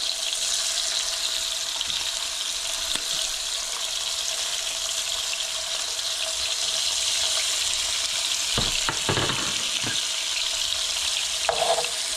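Redear sunfish and crappie frying in a pan, a steady bright sizzle holding evenly throughout with a few soft clinks and shifts near the end; no one speaks.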